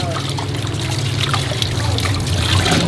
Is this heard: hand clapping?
no